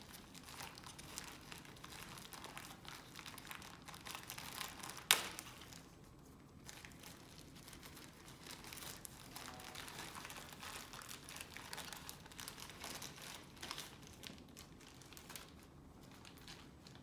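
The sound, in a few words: opening plastic packaging of IV piggyback medication bag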